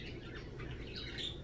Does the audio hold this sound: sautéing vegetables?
no